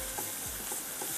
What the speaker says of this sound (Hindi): मैदे को हम भून रहे हैं बटर के साथ